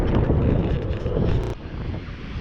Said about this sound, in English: It's windy too, boy, but it's only windy between these motels.